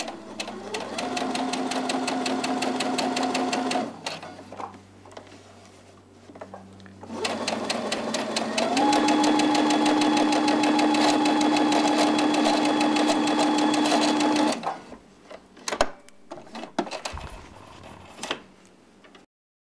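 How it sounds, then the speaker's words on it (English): A Simplicity sewing machine stay-stitches a neck edge, with two long runs of steady, rapid mechanical whirring and needle clatter, separated by pauses with small clicks and handling. "that's stay stitched my neck edge"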